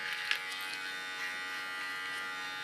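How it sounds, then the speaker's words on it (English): A small electric hair clipper trims a contour line on ultra short hair, giving off a steady, faint, high-pitched buzz close by throughout. "Also on this side, with my small clipper, I sharpen the contour line"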